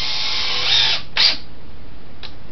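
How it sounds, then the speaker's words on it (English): A power drill boring a pilot hole for screws, with a steady high whir for about a second, then a short second burst and a faint brief third touch, close and loud with no talking. "Then come in here and drill me a hole to start."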